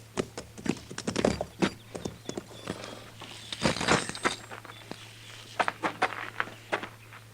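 Horses walking in a corral in a radio western drama, hooves clip-clopping in an irregular stream of close, crisp strikes over a low steady hum, with no voices.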